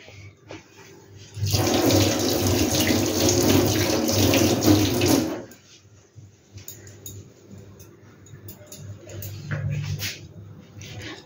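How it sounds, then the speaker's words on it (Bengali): A kitchen tap runs for about four seconds while hands are washed during modak making, a loud close rush of water that then stops, leaving soft handling sounds. "দাঁড়াও আমি একটু হাতটা ধুয়ে নিই।"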